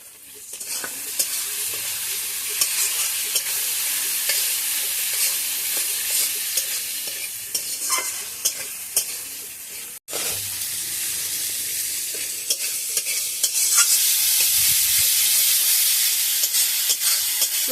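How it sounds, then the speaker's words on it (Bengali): Tomato and spice paste frying and being stirred in a pan, a steady close sizzle with frequent scraping stir strokes, a brief pause near the middle, then louder bubbling toward the end. "বন্ধুরা দেখো মশলাটা খুব ভালোভাবে কষিয়ে নিয়েছি"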